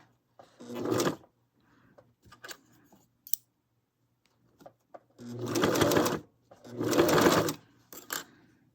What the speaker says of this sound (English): I'm gonna stitch a bit and place the leftover